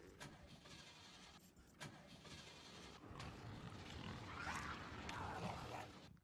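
Car engine cranking over and over without catching, a strained grinding churn at low-to-moderate level, with a voice muttering over it.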